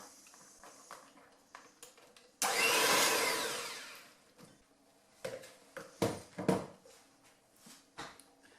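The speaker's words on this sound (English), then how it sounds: "we're going to add this a bit at a time, and then we're going to whisk that" An electric hand mixer whisking Christmas cake mixture in a bowl: a single loud whirring burst of about a second and a half, followed by several dull knocks and clunks as the mixer and bowl are handled.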